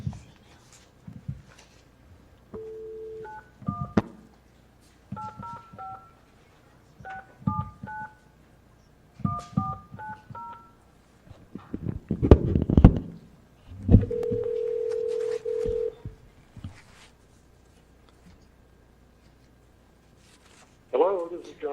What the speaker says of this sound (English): So John, if you're watching, you're getting a phone call.